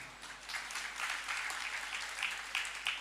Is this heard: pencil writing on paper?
no